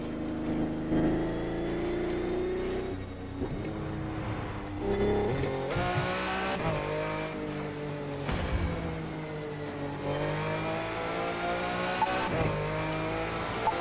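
A Lamborghini Reventon in the racing game The Crew 2 on a Miami to Las Vegas run: a loud, steady engine roar rising and falling through repeated gear changes, with brief tire squeals, and no talking.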